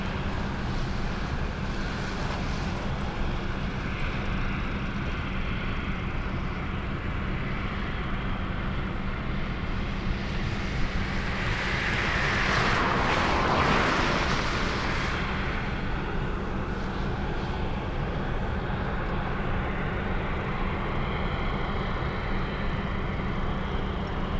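A former Qatar Airways Boeing 747-8 taxis at Anchorage Ted Stevens International Airport in Alaska, its distant jet engines a steady broadband rumble that swells briefly about midway before settling, with no voices.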